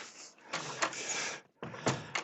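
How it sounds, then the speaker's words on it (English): A door is closed at home, giving a few loud knocks and a thud with broadband scraping between them, close by and with no talk over it. "All right, so I close the door"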